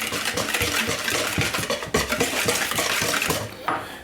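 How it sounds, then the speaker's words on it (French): Carrot cake batter with oil being mixed in a bowl, a steady scraping and clinking of utensil against the bowl, close and continuous for several seconds. "je mélange"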